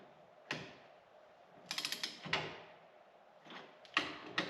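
A ratchet snugs up wheel spacer nuts on a 2020 Polaris Ranger XP1000 Northstar Ultimate, giving short bursts of rapid clicking in several separate runs with pauses between, close and fairly quiet.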